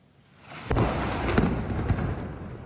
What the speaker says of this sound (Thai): เสียงระเบิดดังกึกก้องไปทั่วกาซาตลอดช่วงค่ำวันอังคารที่ผ่านมา